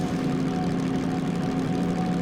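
A train engine in the Derail Valley simulator runs at high revs, a steady loud droning hum with strong low tones that holds constant throughout, with no talk.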